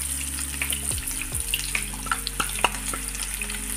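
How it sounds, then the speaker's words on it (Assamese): Spinach and potatoes with salt being stirred in a frying pan, a steady close sizzle with scattered scraping and clinking of the spoon against the pan, no voices. "ভালদৰে লৰাই দিছোঁ"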